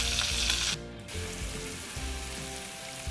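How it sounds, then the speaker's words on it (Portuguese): Garlic and finely chopped onion frying in a pan for a pork rib risotto, a steady close sizzle with a brief scraping stir near the start and faint clinks throughout. "Vamos colocar agora 2 dentes de alho e 1/4 de cebola bem"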